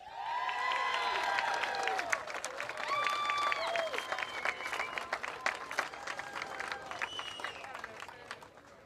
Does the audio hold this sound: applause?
yes